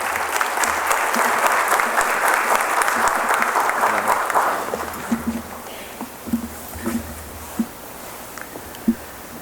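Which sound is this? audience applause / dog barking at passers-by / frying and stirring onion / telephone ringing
audience applause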